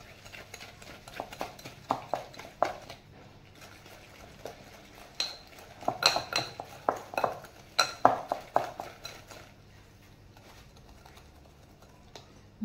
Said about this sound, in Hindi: इसमें मैं 1 कप चीनी भी डालूंगी और इसको अच्छा सा मिक्स करूँगी